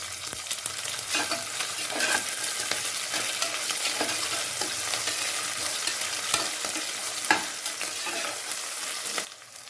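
Green chilies, ginger, garlic, mint and tomato fry in a pan for tomato rice, with a steady close sizzle broken by the scrape and clatter of stirring, and no voices.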